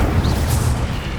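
Incendio fire spell cast in Hogwarts Legacy, a brief deep whooshing boom with a roaring rumble that fills the moment, loud and close.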